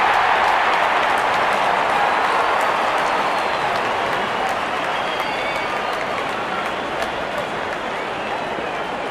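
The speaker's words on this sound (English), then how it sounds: "Openers walking in and the crowd cheering in anticipation." A large cricket crowd at an India versus Sri Lanka match cheers and claps in a loud, continuous roar as the openers walk out, holding steady throughout.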